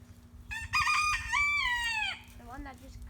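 A small rooster crows loudly and up close in a backyard flock, one long harmonic cock-a-doodle-doo breaking off into a rough trailing call, over a low steady hum.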